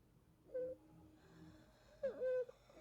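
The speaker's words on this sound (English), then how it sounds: "I wonder who this is snoring here." A person snoring in the horror film Suspiria, two faint nasal snore-like breaths with a pause between, quiet against a low background.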